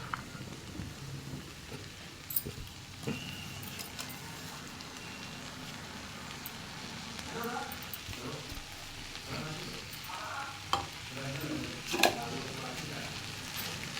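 Ground coconut paste stirred into long beans frying for thoran, a soft steady sizzle with scattered scrapes and stirring clatter from a spatula, close and moderately loud, with no talk over it.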